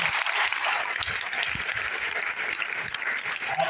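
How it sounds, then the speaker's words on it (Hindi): An audience at a stage event in Kalyan claps steadily, a dense continuous wash of applause filling the whole stretch at an even loudness. "आपके ताली बजाए आप खुश हो गए,"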